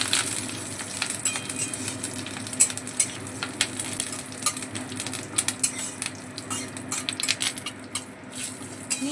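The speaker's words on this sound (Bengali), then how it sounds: "নিম পাতাটা ভালো করে ভেজে নেব।" Washed neem leaves fry in a hot pan with a steady sizzle, and a utensil stirs them with frequent light scrapes and clinks against the metal. No one speaks.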